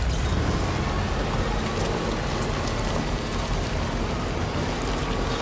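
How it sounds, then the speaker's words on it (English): Heavy rain pours without pause in a cold mountainous area of the video game Death Stranding 2: On The Beach, a dense, steady roar of downpour that stays even throughout with no talking. "Raining cats and dogs over here."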